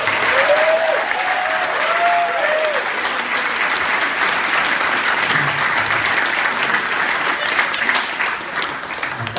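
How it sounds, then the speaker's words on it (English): A crowd applauding the grandparents at a family gathering, continuous dense clapping throughout with a few voices calling out early on. "I want a round of applause for the grandparents"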